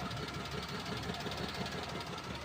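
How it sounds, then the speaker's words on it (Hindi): A Maruti WagonR K-series engine idles after a full overhaul, a steady close mechanical drone with a light rhythmic knock running through it, and no talking. "इंजन बिल्कुल स्टार्ट है गाड़ी का।"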